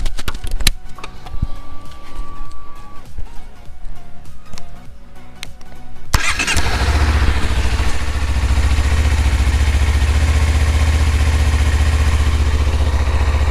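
A Honda CBR250RR with its standard exhaust starts about six seconds in, shifting from quiet clicks and clatter to a steady, close idle that holds to the end.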